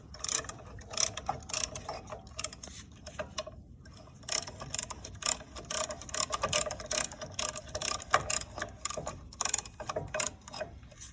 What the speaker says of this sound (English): Now you have to push the pucks back on the caliper.